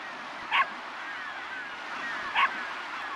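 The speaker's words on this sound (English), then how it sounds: "Oh, we got a doggy." Two short, fairly faint dog barks a couple of seconds apart, heard over a steady background hiss.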